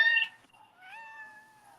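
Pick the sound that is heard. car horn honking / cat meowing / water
cat meowing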